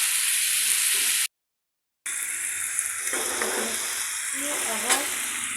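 Potatoes frying in a pan for alu bhaji, a loud steady sizzle with a short drop to silence and occasional stirring scrapes.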